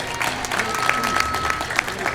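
Steady crowd applause for education advocate Vince Tirri at a Paterson honoring ceremony, continuous clapping with faint voices mixed in throughout a short burst.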